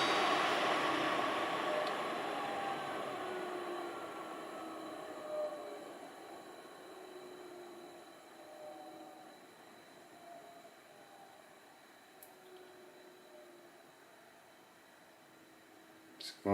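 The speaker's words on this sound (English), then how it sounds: "It sounds like a fan running in the background." Greenote HEPA air purifier with carbon filter, its fan running at highest speed, a steady airy whoosh with faint tonal hum that gradually eases slightly, no talking.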